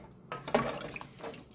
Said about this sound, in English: Just a little hot water.